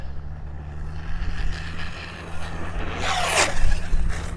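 An Arrma Typhon 6S RC car races toward a dirt mound and launches over it outdoors, its motor rising to a sharp, loud whine amid steady rumbling noise.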